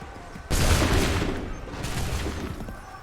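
A musket volley in Assassin's Creed III rings out as a sudden massed crack of many guns, followed by a second ragged volley a moment later, loud and booming with a lingering rumble.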